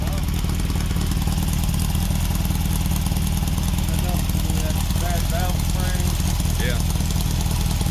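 A big block engine in a Dodge D100 pickup, fitted with a dual quad tunnel ram, idles loud and close with a steady lumpy rumble throughout, while someone talks briefly over it.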